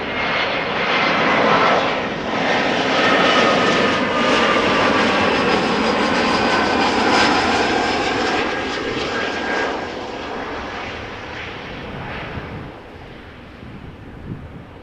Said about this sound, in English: another Transavia flight, Boeing 737-800